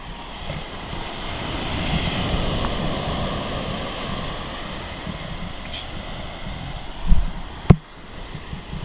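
Ocean surf breaking along the Konkan coast of India, a steady broad wash of waves with wind rumble across the microphone, then two brief louder thumps of water or handling near the end.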